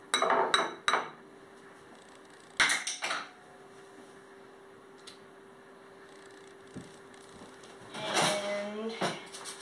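A utensil scrapes and clinks against a bowl while sugar and cinnamon are mixed, in a few short bursts of metallic clatter with quiet pauses between, then a longer rattling stir near the end.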